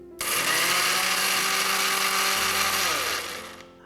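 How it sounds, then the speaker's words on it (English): A blender grinding brown onions with yogurt into a paste, a loud steady whirring motor running continuously for about three seconds before winding down. "I would take yogurt, and then we would grind them into a nice paste"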